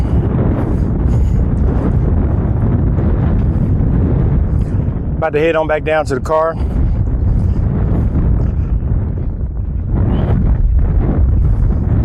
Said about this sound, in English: been nice and windy